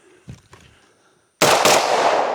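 A Vepr 12 short-barrel shotgun fires a single very loud blast at an outdoor range, preceded by faint handling clicks and followed by a long, ringing decay.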